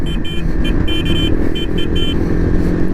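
A motorcycle grinds along a rough, gravelly off-road stretch on the ride to Turtuk, its engine droning loudly and steadily up close while a vehicle horn bleats in repeated short blasts over the top.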